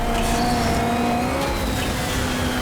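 A race car engine in the video game MotorStorm drones loudly and steadily at high revs, its pitch shifting slightly as it holds a sustained, gritty roar.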